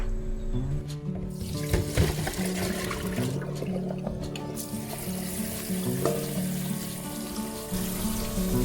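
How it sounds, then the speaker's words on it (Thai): Tap water runs steadily into a sink as raw shrimp are rinsed clean, with a continuous close splashing rush and small clinks of handling throughout. "เดี๋ยวเราก็มาล้างทำความสะอาดกุ้งกันค่ะ"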